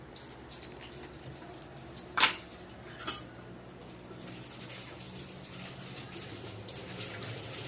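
A low, steady wash of running tap water fills a kitchen sink during dishwashing. Two sharp clinks of dishes or cutlery ring out partway through. The whole scene is faint and fairly distant.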